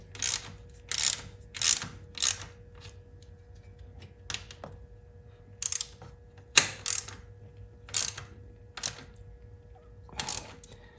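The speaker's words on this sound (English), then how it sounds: "I'm gonna snug it up a little bit and then get the torque wrench" A ratchet clicks in short, quick bursts as the oil drain bolt on a 2003-2005 Yamaha R6 motorcycle is snugged up before torquing, about a dozen close bursts separated by brief pauses.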